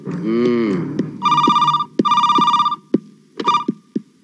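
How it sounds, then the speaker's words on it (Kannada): A telephone rings in repeated loud, close bell bursts, with a short low lowing-like tone just before the first ring. "ಫೋನ್ ಬಂತ್ ನೋಡಿ."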